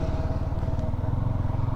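A motorcycle being ridden on the road with a steady, close engine drone pulsing evenly throughout, with a faint light rattle and no talking.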